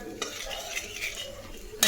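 Cumin, panch phoron and dry red chillies sizzle softly in a pan while a spoon stirs them, with faint scrapes and a clink at the end.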